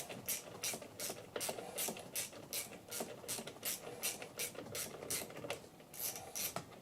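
A ratcheting driver clicks in a steady, fast rhythm while Torx screws are undone beside the steering wheel of a Porsche 911 996 C4, close and fairly loud with no talking.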